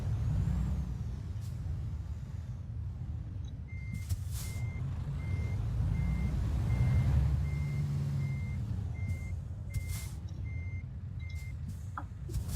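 A truck in Euro Truck Simulator 2 reversing into place, its low engine rumble running throughout under a steady series of evenly spaced reversing beeps, with sharp air-brake hisses in between.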